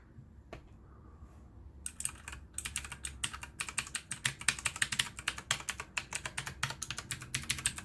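Typing on a Redragon K585 DITI keyboard, a quick run of crisp, close key clicks that starts after a quiet moment and continues in a fast, uneven rhythm.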